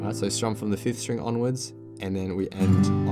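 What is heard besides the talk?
No distinct noise like a dog, phone or traffic.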